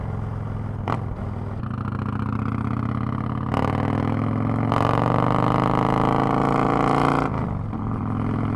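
A Yamaha motorcycle engine runs under way on the road, a steady mid-pitched drone that rises and falls with throttle changes, with brief gusts of wind noise cutting in.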